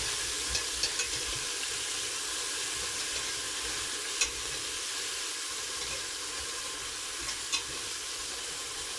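Vegetables sweating in a pan for a vegetable lasagne, a soft continuous sizzle and hiss with a few faint clicks of stirring, quiet and close with no voices.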